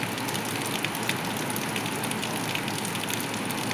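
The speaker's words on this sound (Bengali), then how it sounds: "বাইরে বৃষ্টি হইতেছে" Early-morning rain falling outside, a steady dense patter with scattered drips, continuous and even, with no talk.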